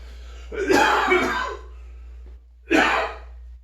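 Two harsh, raspy coughing fits up close: a longer rough burst of about a second, a brief pause, then a second shorter cough.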